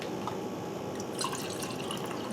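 Water, partly mushroom soaking water, is poured into a pot for a hot and sour soup stock, giving a steady close splashing trickle with brighter drips and plinks toward the end.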